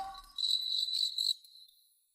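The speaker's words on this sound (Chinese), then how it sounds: "这只是蛐蛐，到了晚上还会叫呢" Cricket chirping, a steady, fairly faint high trill lasting about a second before fading out, heard alone after a brief soft sound at the start.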